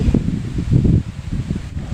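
Strong wind buffets the microphone in rough, rumbling gusts during fishing, low and continuous, with a brief lull partway through.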